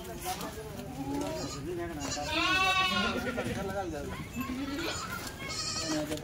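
Large goats in a tethered farm shed bleat in loud wavering cries, one long quavering call standing out, while people talk nearby throughout.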